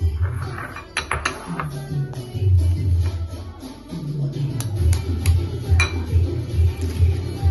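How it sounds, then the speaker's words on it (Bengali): An egg is cracked against a dish in a home kitchen: a few sharp, isolated clinks and taps stand out over a steady low rumble in the background. "এর মধ্যে আমি ডিমটা ফাটিয়ে নেবো"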